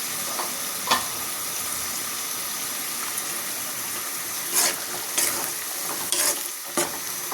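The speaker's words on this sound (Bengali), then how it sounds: "বিচিগুলো একটু কষিয়ে নেব।" Bean seeds stirred and sautéed in a pan with cooked-down spice paste: a steady close sizzle with several sharp spatula scrapes and clinks against the pan, no voices.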